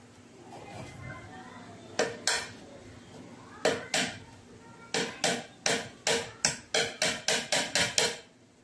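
Sharp knocking strikes of a nail being driven into wood, a couple of early blows then a fast, steady run of about a dozen hits, close and loud, while building a TV cabinet.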